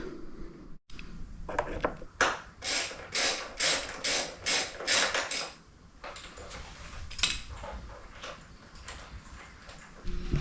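Rear rack bolts are being loosened on a Honda CRF 300L fender, probably with a ratchet, heard as bursts of rapid metallic clicking close by, separated by short pauses and a few clunks.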